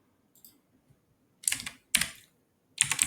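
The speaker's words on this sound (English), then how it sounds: "and I will type in here as localhost" Bursts of typing on a computer keyboard, three quick clusters of close clicking keystrokes after a few faint taps, in a quiet room.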